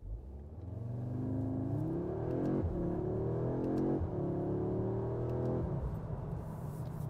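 A 2024 Audi S3 Sportback accelerates hard. The engine note climbs in pitch through three quick upshifts, each marked by a brief drop, with a strong whirring rumble heard from inside the car.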